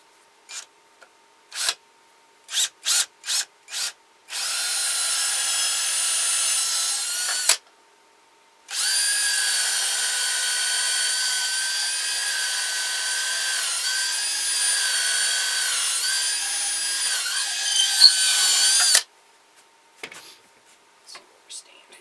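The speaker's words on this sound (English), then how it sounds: "I'm using a 1/4 inch drill bit." Several brief taps and bumps, then a power drill with a 1/4 inch bit whines steadily as it bores into wood in two long runs with a short pause between, followed by faint handling noises.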